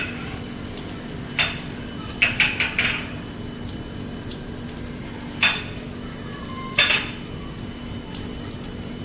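Seeded red chilies sauté in a pan with occasional scraping and clinking of a utensil against cookware, set over a faint steady sizzle in a home kitchen.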